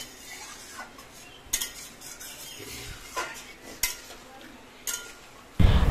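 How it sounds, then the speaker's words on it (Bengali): A spoon stirs a yam, potato and prawn curry in a pan after water has been added, making scattered metallic clinks and scrapes over a quiet simmer. A louder knock comes at the end, and no one talks. "জলটা দেওয়ার পর আমরা এখন একটু পরিমাণ মতো নাড়িয়ে নিচ্ছি"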